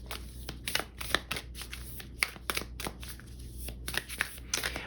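Cards from the Rose Oracle deck being shuffled and pulled by hand, a close, quiet run of crisp riffling flicks and slides in irregular bursts with no voice.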